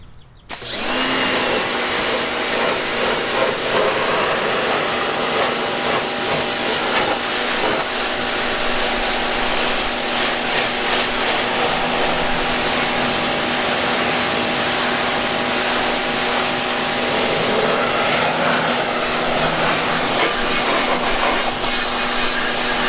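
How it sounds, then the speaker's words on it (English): A pressure washer sprays a car's painted surface, giving a loud, steady hissing roar that starts abruptly and holds unbroken for over twenty seconds, with no talking. "I'll hurry up, get the pressure washer and see what it does."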